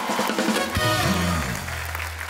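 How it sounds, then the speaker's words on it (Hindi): Studio audience applause and cheering on a comedy show, a dense wash of clapping and crowd noise filling the whole short stretch alongside low music tones. "एक बार हाथ उठा के जोरदार तालियों के साथ बाबा के नाम की जयकार करेंगे"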